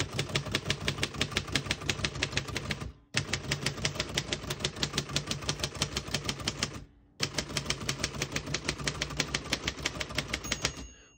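Rapid, even keystrokes clack on a 1948 Royal Arrow portable typewriter, loud and close, in three long bursts separated by two brief pauses, with no voices.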